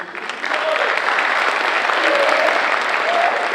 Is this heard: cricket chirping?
no